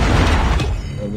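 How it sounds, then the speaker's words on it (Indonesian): A Predator missile strike in a first-person shooter game explodes with a loud, close, booming blast that rumbles and fades over about a second. "Aku akan keluarkan predator missile ini."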